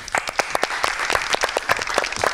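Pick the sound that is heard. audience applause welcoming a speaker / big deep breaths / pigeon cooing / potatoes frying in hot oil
audience applause welcoming a speaker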